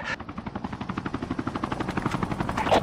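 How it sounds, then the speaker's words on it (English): A helicopter's rotor chops in a fast, steady pulse in Call of Duty Mobile battle royale, growing slightly louder as it approaches, with a brief burst of noise at the start. "Incoming helicopter!"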